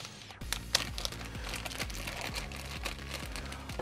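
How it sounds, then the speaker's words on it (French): Plastic packaging of a phosphate aquarium water test kit being unpacked, giving repeated close crinkling and rustling with sharp crackles and taps throughout, under steady low background hum. "On va commencer par les phosphates, donc on va déballer, c'est un peu l'unboxing."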